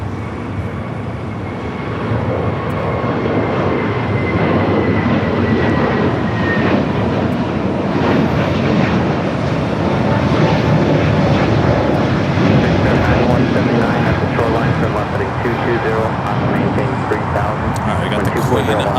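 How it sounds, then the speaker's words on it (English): Frontier Airbus A320neo taking off from Los Angeles airport, its jet roar building after a quieter start and then sustained loudly, with a voice talking over it. "And a Frontier A320 Neo."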